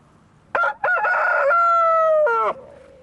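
A rooster crows loudly and close at a farm, one long drawn-out call after a couple of short clucking bursts, with chickens nearby; no talking.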